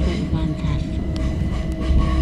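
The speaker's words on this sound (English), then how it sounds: "we've got a freight running along the side of us, or we're overtaking it" Freight train running alongside a moving passenger train at Clapham Junction, a steady loud low rumble and rolling rail noise throughout, with a faint tonal whine and a few brief clanks close by.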